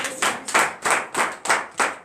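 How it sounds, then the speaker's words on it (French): A congregation at a morning prayer service claps in acclamation, six or seven sharp, evenly spaced rhythmic hand claps close and clear with no talking. "Donne une acclamation à notre Seigneur Jésus-Christ."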